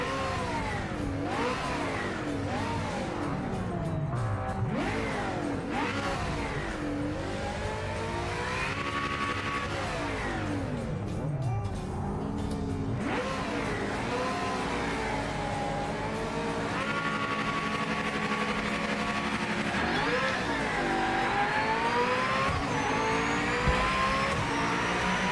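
Race car engine in the Project Motor Racing video game revving up and down with sequential-shift auto blips, loud sweeping engine tones rising and falling continuously throughout.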